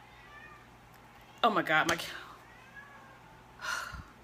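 Faith, a two-year-old pet cat, lets out a close, loud meow that wavers in pitch, followed by a fainter meow a couple of seconds later, and a woman exclaims briefly in between.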